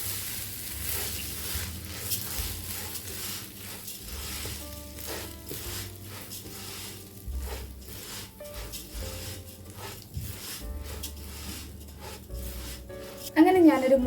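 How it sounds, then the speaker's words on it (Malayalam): Ingredients for a Thalasseri beef biryani frying in about two tablespoons of oil, a steady close sizzle under music, with a brief louder clatter near the end. "ഇത് നമുക്കൊരു 3 മിനിറ്റ് നേരം വറുത്തെടുക്കാം."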